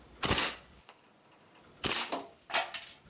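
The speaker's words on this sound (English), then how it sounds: "Semi-auto gives you a good little thump." Three sharp shots from a Sig Sauer Rattler replica BB gun fired semi-auto, each a crisp close snap with short gaps between, no voices.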